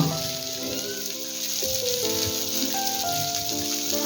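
Karli fish fry in a pan with a steady, even sizzle and crackle, heard close and continuous beneath background music.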